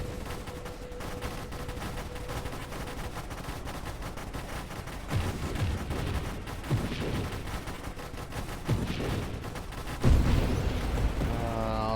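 Dense, continuous barrage weapon fire from the space shooter Nova Drift, a steady stream of rapid shots and booms filling the mix with a few heavier bursts, with no talk.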